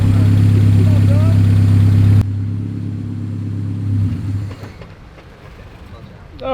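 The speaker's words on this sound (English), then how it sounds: "He stalled it back into gear because we were moving." A manual car engine drones loudly at a steady low idle, then cuts abruptly and sputters down to quiet as it stalls off the clutch, followed by faint rattles and voices nearby.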